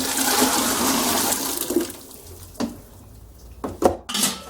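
Boiled water is poured from a teapot into a water filter, a loud steady gush that tapers off into a few light clinks and splashes, close by and with no talking.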